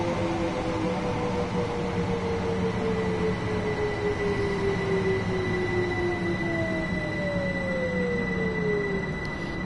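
A stone train rolls past in the Train Sim World video game, a steady rumble of wagons with a long rising and falling wheel squeal and a high whine droning over it, loud and close, no talk.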